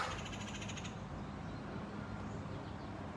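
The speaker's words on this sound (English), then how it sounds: "Can you hear some of those birds?" A bird caws a few times at the start, fairly faint, over a low outdoor rumble that continues after the calls fade.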